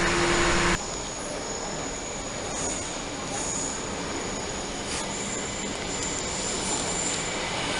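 A train at a railway station in Bruges gives off a loud, continuous squeal of wheels and rolling rail noise, with sharp high whines flaring now and then over the steady roar, close to the listener.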